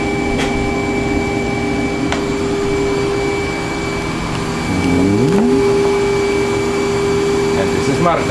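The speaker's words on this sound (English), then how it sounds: "la máquina está funcionando muy bien" A Dolev 800V platesetter in operation shows a steady mechanical whir with a high tonal whine, plus a brief rising motor sweep midway and another near the end, loud and close.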